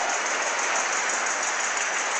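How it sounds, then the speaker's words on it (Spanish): A church congregation claps for the Lord in a steady, continuous wash of applause from many hands, loud and unbroken with no voices on top. "Démosle palmas al Señor"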